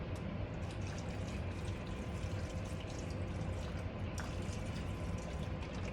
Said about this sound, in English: And then I'll add the coconut water.